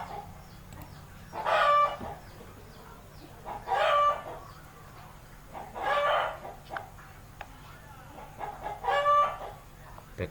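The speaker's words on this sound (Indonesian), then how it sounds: "Backsoundnya ada suara ayam." Chickens cluck and a rooster crows in four clear bursts about two seconds apart, moderately loud over a quiet background with no talk.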